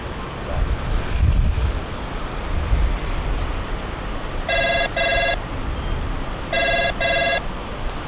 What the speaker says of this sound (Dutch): Hé, ik geloof dat mijn telefoon gaat.